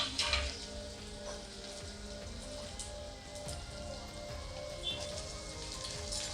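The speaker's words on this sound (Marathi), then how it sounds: "तेलात मी फणसाचे तुकडे टाकून घेतलेले आहेत" Raw jackfruit pieces sizzle steadily in hot oil in a home kitchen, a soft and continuous crackle that runs through the whole stretch without talk.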